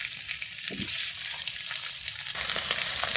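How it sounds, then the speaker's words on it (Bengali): Potato pieces fry in hot oil, giving a constant bright sizzle and crackle, with a brief soft stir or scrape partway through. "আলুগুলো ভেজে নেব"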